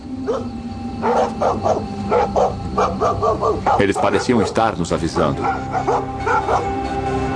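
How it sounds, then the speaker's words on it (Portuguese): Dogs bark and yip repeatedly under a steady layer of speech, several sharp calls overlapping the talking throughout. "Saímos da casa e os cães começaram a latir."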